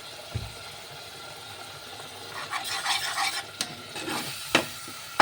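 Ginger garlic paste fries in a pan with a soft, steady sizzle, rising in the middle while a spoon stirs and scrapes, with a few clinks of metal near the end.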